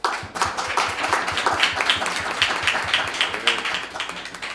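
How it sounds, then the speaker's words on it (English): A debate audience claps for the team, loud close hand claps with a rhythmic, partly synchronized pulse running through a continuous wash of applause, steady for several seconds. "Give them a round of applause."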